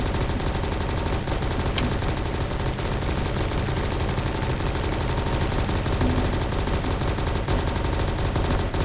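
Loud, dense gunfire rattles without pause in a Bismarck battleship video game, overlapping bursts forming a constant wall of shots with no speech.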